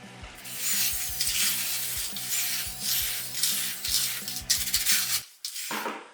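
Concrete and fibers being mixed in a bucket for a homemade weight set, a steady gritty scraping and rubbing with repeated clunks of the mixing tool, loud and close, then a brief pause near the end.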